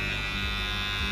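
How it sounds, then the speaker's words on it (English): A steady, close electric hair shaver buzzes continuously with a constant mechanical hum throughout and no one speaking. "And of course, our shavers."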